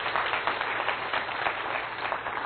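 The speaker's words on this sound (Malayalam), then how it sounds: "ഒന്ന് കൈയടിച്ച് കർത്താവിനെ മഹത്വപ്പെടുത്തുന്നു" A church congregation claps together in steady, dense applause to praise the Lord during a Malayalam prayer service, a continuous wash of many hands with no pauses.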